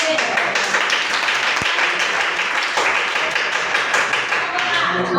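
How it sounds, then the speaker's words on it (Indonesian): A classroom group claps in dense, continuous applause for a few seconds, loud and close, with voices mixed into the clatter. "Tepuk tangan buat kelompok B."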